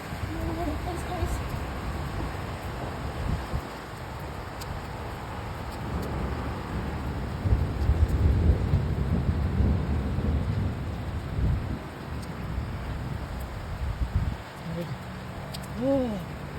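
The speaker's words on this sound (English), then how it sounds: "First time to experience hailstorm." Heavy hailstorm and rain in Las Vegas pelting down steadily, with low rumbling wash and occasional louder bursts; voices talk faintly over it throughout.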